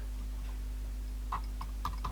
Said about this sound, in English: Or something is making a little ticking sound.